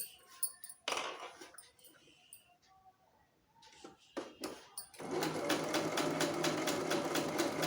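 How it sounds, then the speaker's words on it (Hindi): Scattered handling and fabric noises come first, then a sewing machine starts up and stitches a baby frock in a fast, steady, even rhythm close by. "यहाँ बहुत ही आराम से सिलाई देनी है, नॉक बनाते हुए इस तरफ।"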